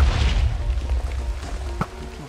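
A cluster bomb explodes in a video game: a deep, sustained rumbling boom with a sharp burst near the end, loud throughout.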